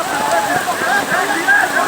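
Rain falling steadily during an outdoor football game played by hand, a continuous hiss of drops with faint shouts and voices from the players and onlookers mixed in.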